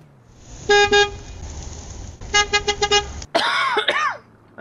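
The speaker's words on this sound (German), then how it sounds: "Hast du irgendwo gehupt?" A car horn in a GTA roleplay game toots in two bursts, first a pair of short honks and then a quicker series of four or five, followed by a close cough.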